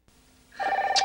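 A telephone bell rings loudly and close after a moment of quiet, a bright sustained trill.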